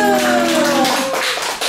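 Clapping from a church worship group with children, filling the short moment after a song as a sustained burst of hands that thins toward the end.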